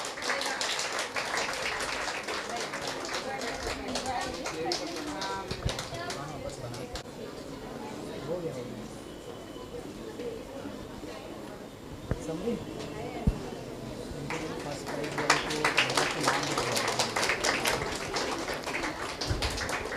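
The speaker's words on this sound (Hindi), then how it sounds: "big round of applaud everyone" Audience applause at a school Independence Day program with prize distribution by SS English Academy: a crowd clapping over steady chatter and hall noise, swelling louder toward the end.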